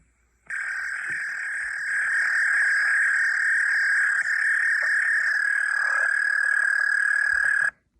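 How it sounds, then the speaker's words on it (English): A recorded American toad call: one long, steady high-pitched trill that holds unbroken for about seven seconds, loud and clean against a quiet background. "So let's click on the American toad."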